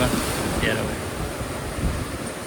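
Water rushes loudly and continuously at a Shiva temple site, a dense roaring wash with some wind buffeting, close and unbroken.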